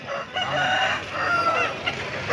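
Roosters call at a busy Sunday poultry market in Pileru, with crowing and clucking that run nearly unbroken over a dense crowd din.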